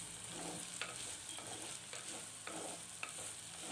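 Two large onions sauté in a pan with faint, steady sizzling and light stirring scrapes recurring every half second or so, quiet and close with no talking.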